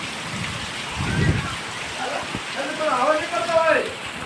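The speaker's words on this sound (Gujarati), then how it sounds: "આ બાજુ બધો વરસાદ ચાલુ છે બધું" Steady rain hisses across the whole scene in Dabhoi, with a low rumble and someone speaking over it.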